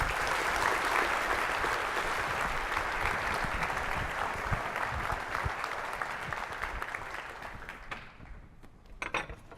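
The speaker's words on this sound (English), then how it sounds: "I'd like everyone to give her an enormous round of applause and cheer to welcome her onto the stage" A conference audience at DDD Perth 2018 gives a speaker a loud, dense round of applause with cheering that holds steady and then tapers away near the end into a few scattered claps.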